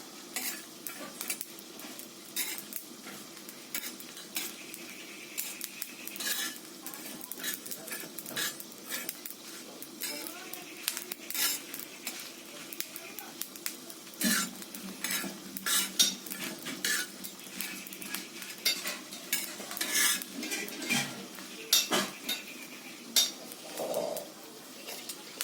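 Spices fry in a pan while a metal spatula stirs and scrapes them, steady soft sizzling broken by repeated clinks and scrapes, close and continuous throughout.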